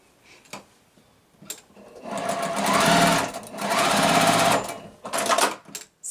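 Stitching on a quilt block: a sewing machine hums in a sustained close run with a brief dip midway, framed by a few soft clicks and handling taps before and after.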